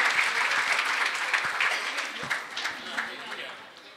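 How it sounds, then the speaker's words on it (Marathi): An audience claps for a singer at a music program, a moderate burst of many hands that thins and fades over a few seconds, with some speech mixed in. "तर त्यांच्यासाठी जोरदार टाळ्या"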